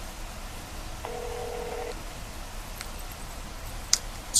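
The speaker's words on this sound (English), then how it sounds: "Let's make a phone call here." A single steady electronic dialing tone from a phone sounds for about a second, moderately loud over background hum, followed by faint clicks and a sharp tick near the end.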